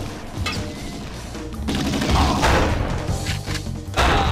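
Gunfire in the first-person shooter video game XIII, a burst of loud sharp shots and heavy impact thuds layered over game music and effects, close and dense.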